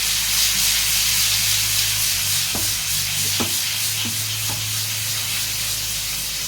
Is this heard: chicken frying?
yes